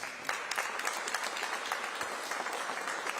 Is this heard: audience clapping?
yes